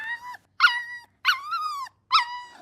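A puppy yelps four times in a row, high, whiny cries with short gaps between them, close and clear against silence.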